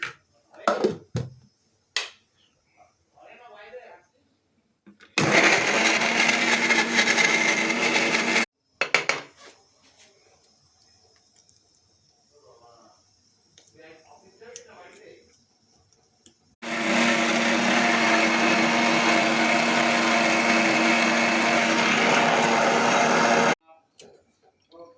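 A kitchen mixer grinder blends coriander and kohlrabi leaves with beetroot and carrot pulp: two loud, steady motor roars of about three and seven seconds, separated by quiet clicks and handling noises.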